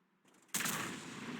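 Gunfire in an online tank-battle video game on a Ghost Town map, one sudden loud blast that sustains into a rumbling roar, heard close with no talk.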